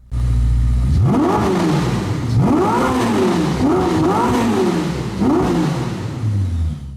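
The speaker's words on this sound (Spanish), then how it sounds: "Vamos a escuchar qué tal suena su escape." Ferrari SF90 hybrid V8 exhaust revs hard in repeated rising-and-falling blips, starting with a quick catch and then several loud, close throttle sweeps over a steady idle rumble, with no talking.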